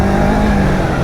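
A Daytona Rockstar 500 motorcycle engine drones loud and close in a brief, steady burst of acceleration after a clutch dump, with no voices over it.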